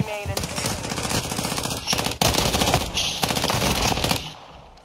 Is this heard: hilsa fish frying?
no